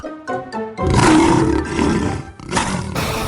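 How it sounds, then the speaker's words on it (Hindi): A deep, raspy lion roar bursts out close and loud after a brief musical lead-in, rumbling in a few long surges. "लेकिन उसकी दहाड़ में भी एक अजीब सी खरखराहट थी।"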